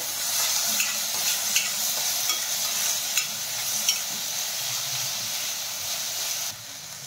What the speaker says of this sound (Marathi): मिरची ही छान तळून घेऊयात। आता यामध्ये टाकून घेऊयात एक बारीक चिरलेला टोमॅटो आणि टोमॅटो छान मऊ होईपर्यंत परतून घेऊयात।